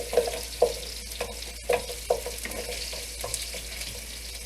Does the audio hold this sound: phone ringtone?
no